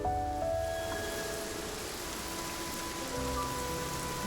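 Steady rain falls in the video game Infinity Nikki, an even wash of drops on surfaces that continues for about four seconds under soft, sustained musical tones, with no one talking.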